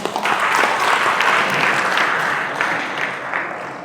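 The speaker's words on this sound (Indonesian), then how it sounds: "tepuk tangan untuk kita semua" An audience at a Muhammadiyah regional gathering in East Java bursts into dense, loud applause, many hands clapping together close by and fading slightly at the end.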